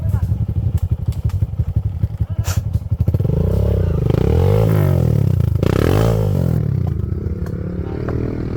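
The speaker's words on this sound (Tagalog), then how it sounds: "Yan, mahabit ng motor." A motorcycle engine labors and revs loudly while the bike is pushed uphill on a rough mountain trail, a near, strained drone with clattering and scraping, and voices calling out over it.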